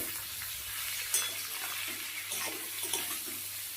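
Snake gourd fry with salt and turmeric stirred in a pan, a steady soft sizzle under scraping and clinks of the spoon, with a couple of sharper knocks; no talking.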